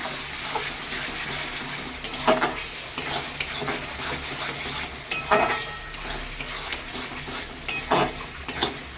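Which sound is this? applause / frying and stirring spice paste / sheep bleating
frying and stirring spice paste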